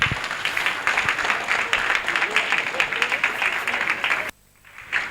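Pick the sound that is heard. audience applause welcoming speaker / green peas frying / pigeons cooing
audience applause welcoming speaker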